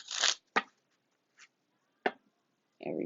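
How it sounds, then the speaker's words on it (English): Tarot cards are shuffled by hand in a quiet room, with a few separate brisk riffles and flicks spaced by silences, close and crisp. "Cards is already cleansed and I'm shuffling them now to make sure"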